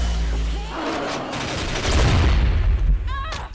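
Gunfire in the shooter game Mission Against Terror 2, a loud close burst of shots and rumbling booms over busy game sound, with a short mechanical rattle near the end.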